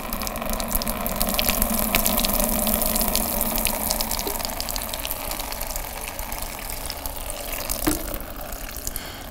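Water poured through a plant pot while watering gives a steady, close gushing flow that runs unbroken for several seconds, alone with no voices.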